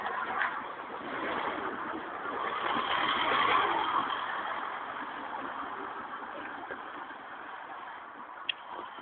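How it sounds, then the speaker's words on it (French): Cars pass along a street in a steady hiss of tires and engines, swelling and fading as vehicles go by at moderate distance, with one brief click near the end. "Il y a trop de voitures qui passent."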